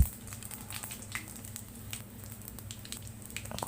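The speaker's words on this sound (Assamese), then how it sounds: "এতিয়া এইখিনি অকণমান ভাজি কিনে" Dried chillies, a bay leaf and five-spice sizzle in hot oil, a steady close crackle with scattered sharper pops and a low hum beneath, no one speaking.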